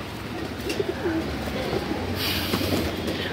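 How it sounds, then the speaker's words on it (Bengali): A female Madras pigeon of an old bloodline coos softly in short, low calls, half buried under a steady rushing background noise. "মাদি পায়রা আছে।"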